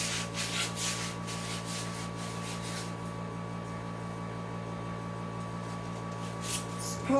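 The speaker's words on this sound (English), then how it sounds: "So I'm just gonna sand it down. I'm gonna go get my file actually." A homemade cleaver handle is sanded and filed with rhythmic rubbing strokes at first, then a steady low hum with faint scraping continues to the end.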